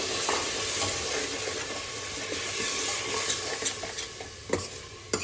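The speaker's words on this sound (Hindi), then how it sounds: "ये मसाला भूनने के बाद टमाटर का पेस्ट जो हमने बनाया था वो डाल देंगे। इसे भी भूनेंगे थोड़ी देर।" Spice masala with tomato paste sautéing in a pan for a fasting thali, a close steady sizzle with stirring scrapes and small clatters toward the end.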